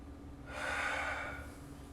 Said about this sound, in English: Take another big inhale.